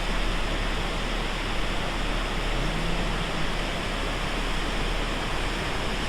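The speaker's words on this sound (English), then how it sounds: "That is a waterfall, as opposed to what we were talking about before." A waterfall fed by glacial melt in Tracy Arm Fjord, Alaska, pours out a steady, dense hiss of falling water that stays even and unbroken throughout.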